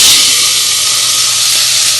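Chopped onion frying in oil with clove-cinnamon powder for a mutton kuzhambu, a loud, close, continuous sizzle that stays steady throughout.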